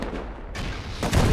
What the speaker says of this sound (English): get the rockets, get the fireworks, and maybe Not Bad can take over